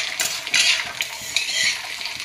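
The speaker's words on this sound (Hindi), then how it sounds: "और इसे अच्छे से फ्राई करते रहेंगे" Flat beans frying in a pan are stirred briskly, the spatula scraping and clattering in quick bursts over a bright, close sizzle.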